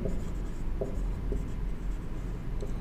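Marker or chalk writing out a math solution on a board, with steady scratchy strokes and a few sharp taps, fairly faint and close in a quiet room.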